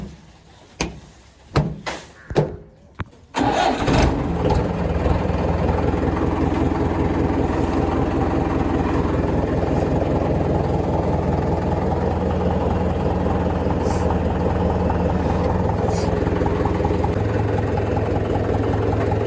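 A farm tractor's engine starts after a few sharp clicks and knocks, then settles into a loud, steady, close diesel rumble that idles continuously without talk.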